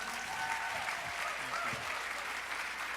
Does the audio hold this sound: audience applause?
yes